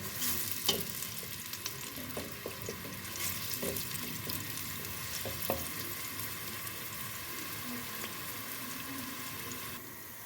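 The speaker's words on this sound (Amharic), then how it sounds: "ሽንኩርታችን እንደዚህ አሪፍ እየሆነ እየበሰለልኝ ይገኛል።" Chopped onions fry in olive oil in an iron pot, a soft steady sizzle with a few scattered clinks and stirring knocks, close by and fairly quiet throughout.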